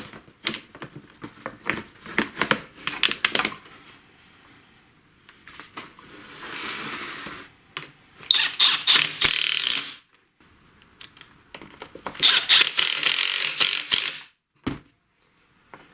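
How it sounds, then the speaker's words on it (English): Screws being driven into a replacement handle on a STIHL chainsaw, with scattered clicks and ratcheting taps followed by two longer bursts of whirring driver noise, close up and with no talking. "So I'll just start a few screws in the back here."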